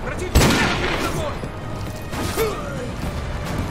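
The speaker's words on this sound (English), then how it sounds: "he tried to shoot me with an RPG at point blank" Point-blank RPG shot in Call of Duty: Modern Warfare 2 Remastered, a sharp loud blast near the start followed by rumbling battle noise and clatter, with a second thump later amid continuous game ambience.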